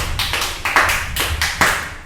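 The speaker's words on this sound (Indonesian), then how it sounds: "Yo, beri tepuk tangan untuk Tuhan Yesus." Clapping for Jesus at a midweek church service: a handful of sharp, close claps in an uneven rhythm, with several louder bursts, and no talk over them.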